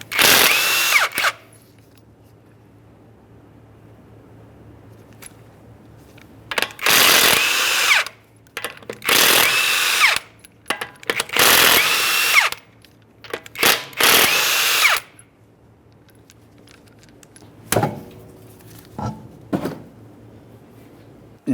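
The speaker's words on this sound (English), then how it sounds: "we're going to remove all 5 of our 21mm lug nuts and we can get the wheel off of here" Impact tool zipping off five 21mm lug nuts from a 2009-2014 Nissan Maxima wheel, a series of short loud rattling bursts separated by quiet pauses, close up.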